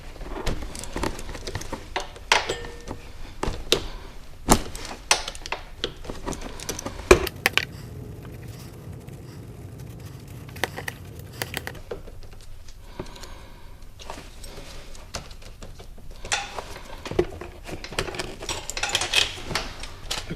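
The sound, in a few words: removing gear from Chinese ATV sprocket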